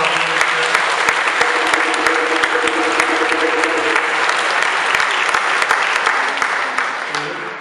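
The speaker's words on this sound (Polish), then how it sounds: "Myślę, że te brawa im się należą" Loud, sustained applause from a large crowd of pilgrims at Jasna Góra honouring the orchestra, dense clapping holding steady and then tapering slightly near the end, with faint tonal sounds underneath.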